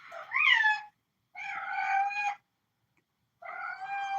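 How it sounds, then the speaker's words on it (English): A Siamese cat meows three times in a backyard, long drawn-out calls with short gaps between them, close and clear with no talking. "Siamese cat."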